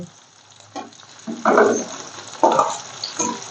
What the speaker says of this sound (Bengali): কাঁচা পেঁয়াজটা এবারে ভাজা ভাজা হবে